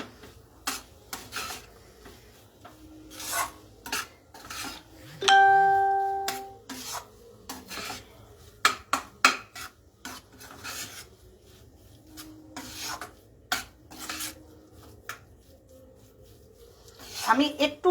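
Grated cheese and paneer are mixed in a pan, with intermittent rubbing and scraping bursts between quiet gaps, a short tonal chime partway through, and a voice speaking now and then.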